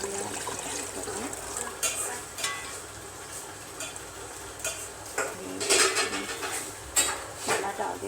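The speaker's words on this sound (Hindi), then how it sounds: "अब इसमें पानी ऐड करेंगे ना" Water poured into a cooking pot of beef trotters for paya, with stirring clinks and scraping of a utensil against the pot, splashy bursts rising and falling at close range.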